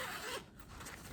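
A rose gold zipper runs along a suede makeup bag, a brief close scratchy zip that pauses partway and then resumes, with no talk.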